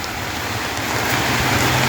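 Steady rain falls outdoors in the evening as a loud, dense, continuous hiss with a faint low rumble underneath, and no one speaks.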